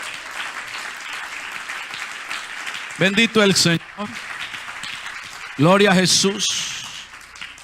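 Church congregation applauding for the Lord during a sermon, a continuous crowd clapping wash with voices calling out praise over it in two loud bursts midway.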